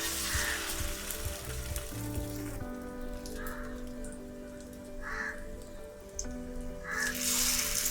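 Bread slices dipped in beaten egg fry in hot oil in a pan, giving a steady close sizzle that stays constant throughout, with a few faint clinks and taps over it.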